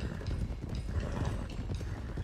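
Several horses gallop in Red Dead Redemption 2, a dense rapid clip-clop of hooves, faint and steady throughout, with no talk.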